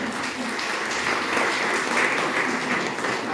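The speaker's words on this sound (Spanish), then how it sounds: "Un aplauso para ellos." Audience at a talk marking the 150th anniversary of the Mexico–Veracruz railway applauds, an even, continuous round of clapping filling the room without anyone speaking.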